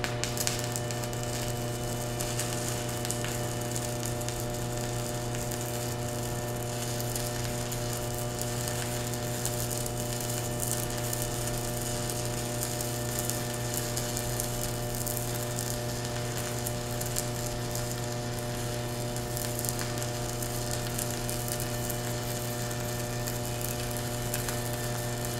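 A Chanharm 160A dual-voltage DC stick welder runs at 76 amps on metal, giving a steady, close crackling sizzle of the arc over a constant electrical hum. It continues unbroken for about 25 seconds with no one talking.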